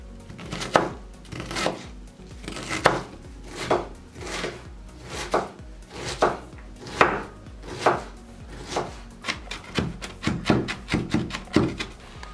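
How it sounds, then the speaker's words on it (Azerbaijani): A knife chops an onion into small cubes for a meat pie, landing crisp, close, evenly spaced strikes on a board that speed up into a quicker burst near the end. "Soğanı da qub-qub doğrayırıq bu qaydada."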